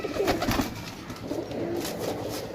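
Pigeons offered for sale in Sarialamgir, Jhelum, Pakistan coo softly nearby, low throaty burbling calls repeating over a faint background murmur.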